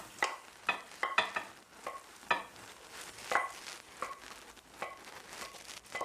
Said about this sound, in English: and pour the chicken in